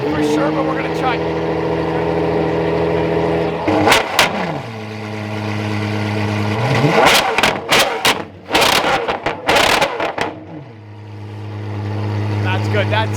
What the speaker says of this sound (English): This is arguably the best sounding V12 in the world.